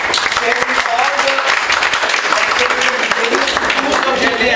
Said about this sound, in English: a big clap for Sachin sir